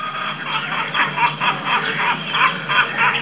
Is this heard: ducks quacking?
yes